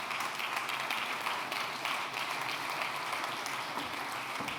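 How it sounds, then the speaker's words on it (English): A festival audience gives a round of applause for a presenter returning to the stage, a continuous, even roar of clapping lasting a few seconds without a break. "Give her a loud round of applause"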